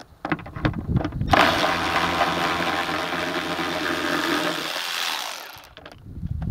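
Power tool running continuously for about four seconds while removing trunk liner bolts on a Ford Expedition, a loud, close, steady whirring drone with brief handling clatter before and after.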